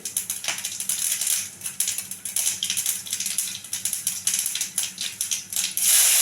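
Mustard seeds pop and splutter in hot oil with curry leaves for a sambar tempering, a dense, close crackle of rapid sharp clicks and snaps that never lets up, with no voices.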